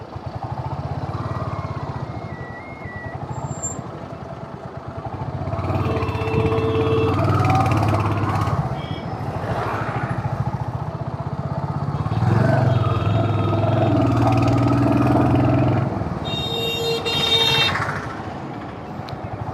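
A motorcycle engine drones steadily while riding in light rain on the road from Anantnag to Betaab Valley, Kashmir, a continuous rumble with traffic noise and a few horn toots around it, fairly loud throughout.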